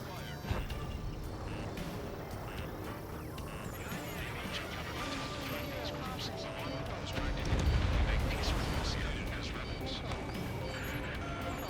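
Heavy gunfire and crashing impacts pound a general's vehicle in Ace Combat 7: Skies Unknown, Mission 16 "Last Hope": a loud, dense, continuous barrage that swells around the middle, with voices under the din.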